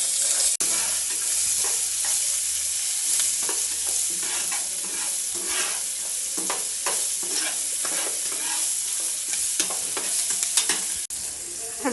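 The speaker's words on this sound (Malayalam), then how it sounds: "എല്ലാ കടുകും പൊട്ടിക്കഴിഞ്ഞ് കഴിഞ്ഞാൽ നമുക്ക് ചെറിയുള്ളി, പച്ചമുളക്, വെളുത്തുള്ളി എല്ലാം കൂടെ കുഞ്ഞാക്കി അരിഞ്ഞ് വെച്ചാണ് അത് ഇടാം" Chopped shallots, green chilli and garlic frying in mustard-seed oil for a Kerala-style brinjal curd dish, a steady loud sizzle with crackles and spoon stirring scrapes against the pan.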